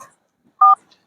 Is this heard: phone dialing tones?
yes